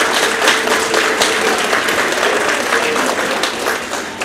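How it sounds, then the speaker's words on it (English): Steady applause from an audience welcoming new employees at a workplace celebration, dense clapping filling the room throughout without pause. "Let's give them a round of applause,"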